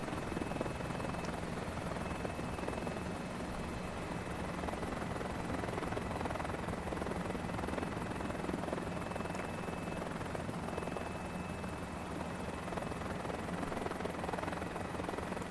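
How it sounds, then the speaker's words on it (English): A tiny helicopter in a flight simulator game drones steadily and closely for the whole stretch, its rotor and engine noise a constant broadband whir with a faint high whine and no talking. "Helps to be in a tiny little helicopter, I think."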